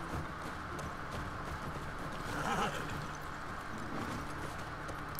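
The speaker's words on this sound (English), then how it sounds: "Oh, I love the horse." A horse whinnies in the video game The Last of Us Part II, a brief neigh rising midway through over quiet ambient game sound, with no talk.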